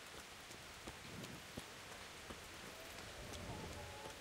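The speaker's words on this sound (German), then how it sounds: "Oh, arme Pebbles. Musste im Regen stehen, tut mir leid." Steady, fairly quiet rainfall in the medieval open world of Kingdom Come: Deliverance, with a continuous patter of drops and a few sharper splashes throughout, heard without talk.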